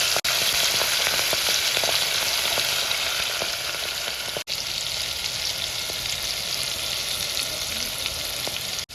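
Asafoetida and seeds such as fenugreek crackle and sizzle steadily in hot oil for tempering while cooking baingan bharta, a loud, dense frying hiss that is continuous and close, with no talk.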